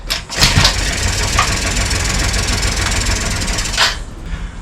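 A freshly rebuilt engine starts and keeps running with a loud, rough, steady drone and a couple of sharp bursts at the start and near the end.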